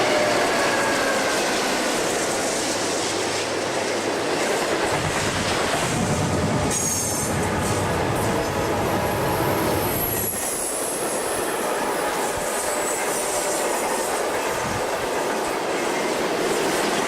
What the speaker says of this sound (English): TV11 runs around the steel train on the north track.